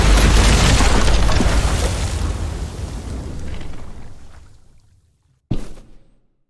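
A bomb blast in The Walking Dead: The Final Season video game, a loud deep boom whose rumble slowly fades into silence before a short sharp burst near the end.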